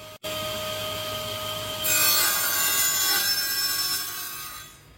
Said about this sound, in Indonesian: dalam mengujinya menggunakan blockboard 18 mili, pemotongan 45 derajat